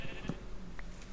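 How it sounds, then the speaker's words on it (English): A brief, faint sheep bleat from the Minecraft video game, heard over steady background noise. "where do I put my sheep?"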